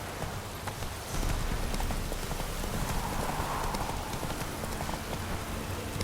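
Roach, a horse in The Witcher 3, gallops with steady rapid hoofbeats over a soft rain-like background hiss, fairly loud and close, with no talking.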